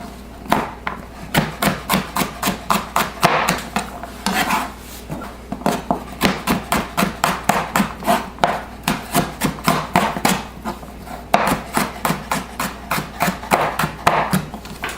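A knife dices potatoes on a cutting board in a steady rapid run of sharp chops, with two brief pauses between bursts, close and fairly loud with no talk.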